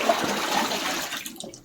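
A toilet flushes close by in an old Irish farmhouse, a short rushing gush of water that swirls and fades into gurgling as the bowl drains.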